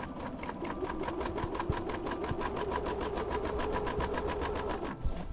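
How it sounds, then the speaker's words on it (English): A sewing machine running steadily along a fabric seam, a fast even mechanical rattle of needle strokes close by, stopping briefly near the end. "So I'll do a few backward stitches to secure the seam, and then I'll go forward and complete the seam."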